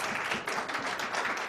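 A church congregation claps hands in thanksgiving during a sermon, a dense, steady patter of many hands heard at a moderate distance.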